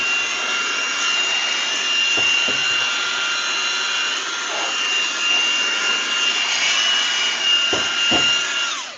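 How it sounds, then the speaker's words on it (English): A loud vacuum cleaner runs steadily at close range, a constant whining roar with a few brief bumps and knocks. "You get a loud vacuum sound."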